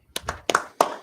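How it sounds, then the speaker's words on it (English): Hand claps during a class-style Sabbath service, four sharp separate claps spaced unevenly over about a second, close and fairly loud with no talk over them. "Sign Christ, clap it up."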